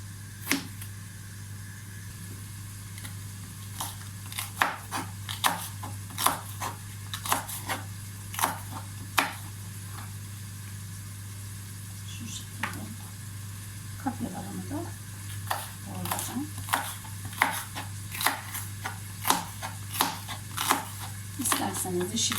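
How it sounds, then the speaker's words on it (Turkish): A knife chops a large potato into small pieces on a cutting board, giving a run of sharp, close taps in an irregular rhythm. "Şurada bir adet böyle büyükçe de patatesim var. Bunları da ince ince kıyacağım."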